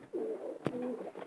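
A female racing pigeon of the Arden line gives a soft, close coo in two short low phrases, broken by a brief rustle or flap in between.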